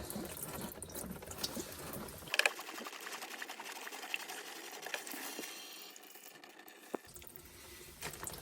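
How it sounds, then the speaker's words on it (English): Leftover coolant drains from a disconnected coolant pipe on a Porsche Cayman/Boxster 997, a continuous trickling and splashing with small bubbling pops, close and fairly quiet, without talking. "Just still a bit of coolant left in there. I'll let that drain out."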